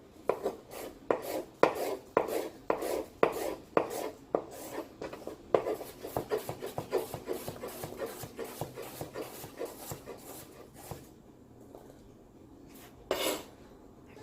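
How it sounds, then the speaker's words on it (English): A knife finely chopping apple on a cutting board: quick, steady close-up chops in a rapid rhythm, thinning out into a few scattered cuts and pauses toward the end. "now we're gonna finely chop our apple"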